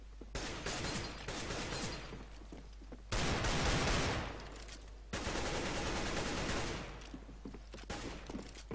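Gunfire in the video game CS:GO comes in dense, loud bursts of automatic fire with brief breaks between sustained volleys.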